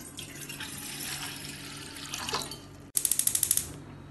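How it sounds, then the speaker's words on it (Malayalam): Water runs steadily into a cooking pot on a stove, a continuous splashing pour that ends abruptly partway through, followed by a few quick metallic clicks. "ഇനി അടുപ്പത്ത് ഒരു പാത്രത്തിലേക്ക് കുറച്ച് വെള്ളം ഒഴിച്ച് തിളപ്പിക്കാം"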